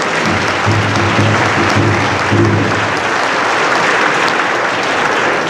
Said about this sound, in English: Let's give our tribal leaders a big, big round of applause.